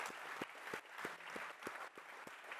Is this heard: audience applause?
yes